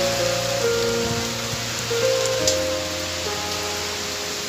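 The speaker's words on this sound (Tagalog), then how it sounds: "Umulan kasi, lakas ng ulan." Heavy rain falls as a steady broadband hiss, continuous and fairly close, with faint tonal hums running beneath it and no talk.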